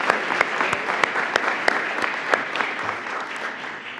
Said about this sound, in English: I think they deserve a tremendous round of applause